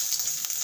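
Turmeric and other spices with ajwain and asafoetida sizzle steadily in hot oil for Maharashtrian ghol varan, a loud, close, continuous hiss with no talking.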